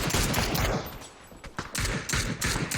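Gunfire in a PUBG pro scrim match: rapid automatic bursts and scattered single shots crackle loudly, with a short lull midway before more volleys resume.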